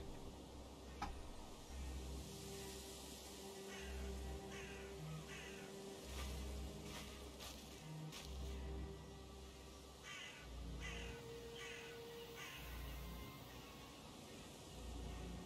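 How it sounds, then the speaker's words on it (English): Birds call in the Valheim video game world, repeated harsh cawing cries over a dense, continuous ambient wash of game sound, with no voices. "I can hear birds."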